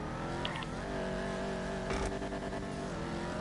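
A car engine revs up and down steadily, then a harsh grinding, clattering gearbox burst from a failed double clutch cuts in around the two-second mark before the motor keeps droning.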